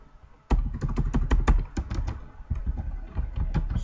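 Quick, irregular keystrokes on a computer keyboard while Java code is entered, a dense burst of close clicks with a brief pause partway through.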